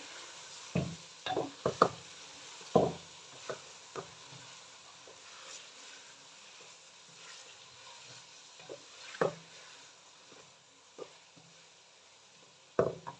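Chicken frying with tomatoes and green chillies in a pan, with a sizzling bed broken by scattered stirring scrapes and clinks, loudest near the start and the end. No one speaks.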